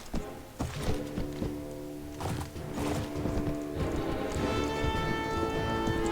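Donkey hoofbeats in Mount & Blade: Warband (Floris Expanded) clop in a steady, close rhythm over sustained background music.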